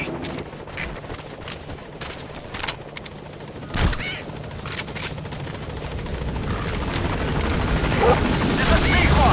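In Metal Gear Solid V, the B-Quad helicopter arrives at a landing zone, its rotor noise swelling louder over several seconds, mixed with sharp bursts of distant gunfire and a radio voice.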